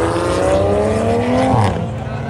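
A Toyota Supra engine roars loudly and steadily, its pitch climbing as it revs up, then dropping sharply near the end, with voices faintly in the background at a night car meet in Kuantan.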